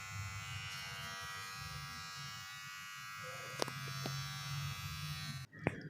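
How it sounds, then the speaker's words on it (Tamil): A Mi electric beard trimmer is switched on and runs with a steady close electric buzz for several seconds, with a couple of small clicks near the end. "இப்போ நான் ட்ரிம்மரை ஆன் பண்ணி காட்டுறேன்"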